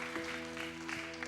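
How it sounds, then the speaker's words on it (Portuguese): A church congregation applauds during a worship service, a short burst of many hands clapping that sounds moderately loud over a sustained musical drone. "Pode aplaudir o Senhor, aleluia."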